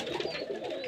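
Giribaj pigeons coo in a low, throaty burble inside a loft, a brief close murmur with no talk.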